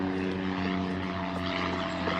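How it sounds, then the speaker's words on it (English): A low-flying propeller plane drones steadily overhead, a loud sustained engine hum with a strong buzzing tone that holds for the whole stretch with no voices. "that plane's coming in pretty low."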